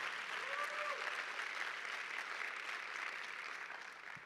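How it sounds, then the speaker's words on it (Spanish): Church congregation applauding during a sermon, a continuous distant wash of clapping held at an even level for several seconds, with no speech over it. "Denles aplauso al Señor"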